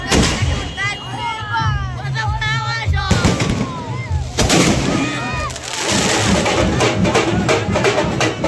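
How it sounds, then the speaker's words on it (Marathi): Firecrackers burst in rapid, loud, crackling volleys during a village goddess festival procession with a palanquin, overlapping with voices and crowd shouting nearby. "आमचे फटाके"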